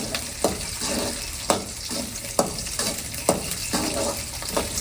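Shallots and garlic sauté in hot oil for a tangy sundakkai kuzhambu, a steady close sizzle broken by regular stirring scrapes of a spoon against the pan, with no talking.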